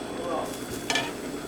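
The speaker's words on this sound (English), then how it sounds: "we got a nice boil going right here" A pot of stock for seafood risotto bubbles and sizzles softly up close, with a brief clatter partway through.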